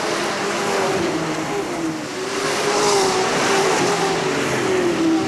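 Sportsman stock cars racing three wide at Hales Corners Speedway in 1989, heard as a continuous, loud engine roar with a steady droning pitch that swells slightly midway as the pack passes, no voices.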